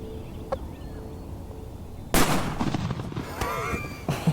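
A loud shotgun blast fired at a wild turkey during an Ontario gobbler hunt rings out sharply midway, followed by a brief echoing tail and faint outdoor noise, with voices briefly in the background.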